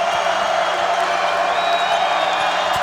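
A basketball arena crowd at the Thomas Assembly Center, with fans on their feet during an LA Tech versus Iona game, makes a loud, continuous wash of roaring and cheering that holds steady throughout.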